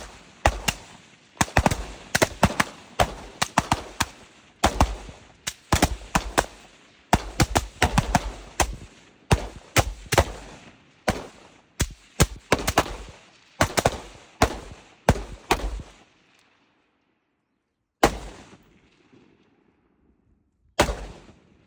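Rapid, loud gunshots ring out at an outdoor shooting range during a defensive drill, many rounds fired in quick overlapping volleys for about fifteen seconds, then two isolated final shots after a pause.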